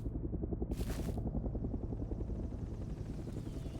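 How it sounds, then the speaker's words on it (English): A helicopter in the game Crackdown 2, its rotor giving a loud, fast, steady chopping pulse close by, with a brief rushing whoosh near the start and no talking. "Yeah, just a helicopter."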